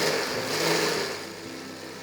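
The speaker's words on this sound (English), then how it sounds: "Blend the chutney for 2 to 3 minutes until it becomes smooth like this." An electric blender grinds tomato chutney, a steady high whirring motor drone close up that eases to a lower pitch as the mixture smooths, with no speech.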